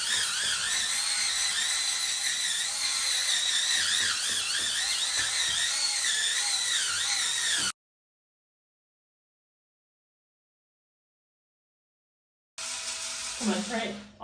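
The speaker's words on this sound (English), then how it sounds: "Okay, so I'm gonna start off by scrubbing this." An electric spin scrubber with a long handle whirs steadily while scrubbing rust off a surface, a loud continuous buzzing hum that cuts out into silence and then starts up again briefly.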